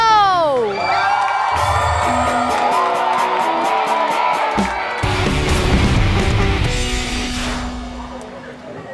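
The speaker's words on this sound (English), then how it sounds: "please give a round of applause to your favorite team" A large esports crowd at a PMSC Asia Finals mobile tournament cheers and whoops loudly and continuously throughout, layered with booming arena music and announcer-style voices.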